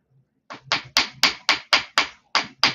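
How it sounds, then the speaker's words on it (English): Wire pieces on a padded block take a quick series of about eight close, crisp hammer taps, struck all over to work harden the metal. "give it just a little bit of hammering all over, just to work harden it"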